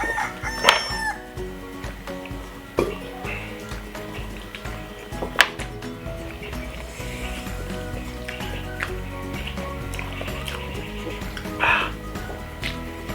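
A rooster crows at the start, with further crowing and clucking scattered over a busy background of clatter, thuds and faint voices, the calls moderately close and standing out in short bursts.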